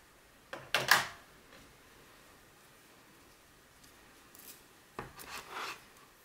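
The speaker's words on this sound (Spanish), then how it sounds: "Vamos a necesitar un palillo de madera. Lo forramos primero con cinta de floristería." Florist tape being wound around a wooden stick, two short bursts of close, soft rubbing and rasping separated by near silence.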